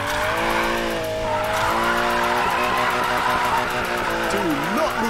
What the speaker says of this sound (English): Do not lose this drift